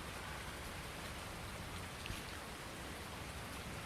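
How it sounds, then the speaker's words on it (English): Steady rain in the Farming Simulator video game, a dense, even hiss of falling drops close up and continuous throughout, with no voices over it. "hopefully the rain will stop here pretty soon"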